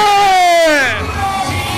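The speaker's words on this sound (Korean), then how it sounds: "우리 모두 만세를 외치겠습니다" A crowd at a political campaign rally in Jeongeup shouts manse in unison: a loud, sustained collective cry that holds steady, then falls into a rough, noisy roar of massed voices.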